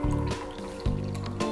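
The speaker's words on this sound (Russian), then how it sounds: "Наливаем в стакан" Herbal tea is poured from a container into a drinking glass, a steady liquid fill with gurgling bursts and a faint rising pitch, close and fairly loud, with no talking.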